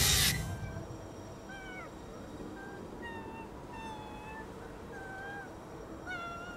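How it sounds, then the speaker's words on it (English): Several cats in Ghostwire: Tokyo meow and yowl in drawn-out, rising and falling calls, some overlapping, starting after a brief loud burst of noise and continuing against a quiet ambient background. "The cats are like singing."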